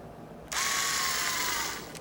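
Bosch CLPK 232-180 cordless drill driver running up to speed and spinning steadily for about a second and a half, a close, loud whir with gear whine, then winding down.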